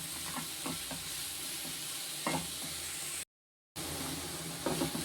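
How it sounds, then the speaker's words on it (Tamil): Carrot and onion sauté in a pan with a steady, even sizzle and occasional soft stirring scrapes, interrupted by a brief moment of total silence before the frying noise resumes. "இதை நல்லா வந்து வதக்கணும்"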